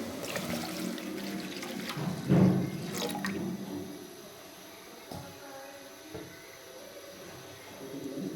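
About one and a half cups of milk are poured into caramel milk tea, giving a liquid splash and gurgle that peaks briefly, then fades into a quieter simmering hiss.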